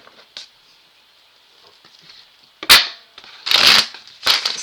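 Tarot cards are shuffled in a few quick riffling bursts, loudest near the end, following a quiet stretch with faint background hum.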